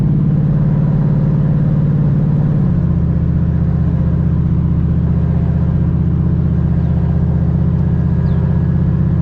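Turbocharged SN95 Ford Mustang engine pulling under load while driving, a loud, steady low rumble with a thick, even drone that shifts slightly in pitch a few seconds in and holds constant with no talking.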